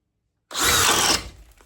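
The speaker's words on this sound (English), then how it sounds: "Same thing, speed 2 and in drill mode." DeWalt DCD806 cordless drill spinning up at speed 2 in drill mode, a loud close whir that starts abruptly after silence, holds for about half a second, then winds down.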